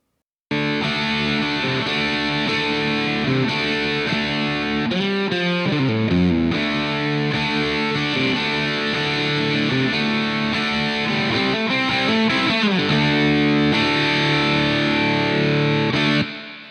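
Distorted electric guitar played through a simulated speaker cabinet in Amplitube, thick saturated chords and bending lead phrases ringing loud and continuous with no talking.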